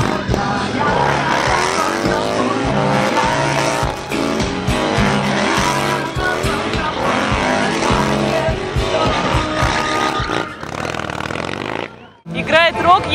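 Motorcycles riding past at a motorcycle season opening event in Minsk, a loud continuous engine roar with revving rises and falls, over crowd noise and music, ending in a brief dropout and a final burst.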